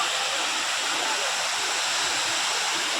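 Water spills down at Harkul Khurd dam in a steady, even rush of broadband noise, continuous and fairly loud with no clear voices.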